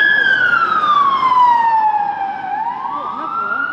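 Police car sirens wail loudly near Trafalgar Square in London, a single falling then rising tone sweeping steadily through the whole stretch over faint traffic noise.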